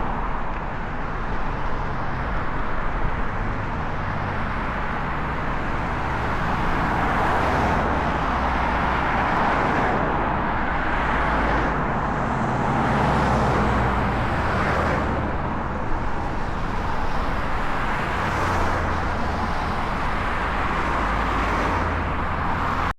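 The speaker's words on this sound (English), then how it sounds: "When you cycle and you're beside a road, you realise how much noise cars make." Cars drive past continuously on a road beside a cycle trail, a dense, steady roar of tyres and engines with gentle swells as vehicles approach and recede, loud and close, with no talk.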